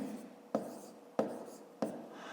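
A pen scratches numbers onto paper in three short, soft strokes at an even pace, close and quiet.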